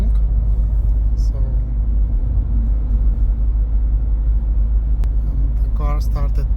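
Skoda Kamiq 1.5 110 kW car driving on a road, heard from inside as a steady low rumble of engine and tyre noise, with brief voices near the end.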